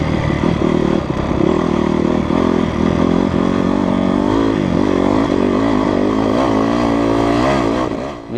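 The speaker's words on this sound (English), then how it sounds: "Anybody else hear that ticking sound coming from the engine?" A motocross motorcycle engine runs loud and close, revving and settling with a fast mechanical ticking clatter in its note, and nobody speaks over it.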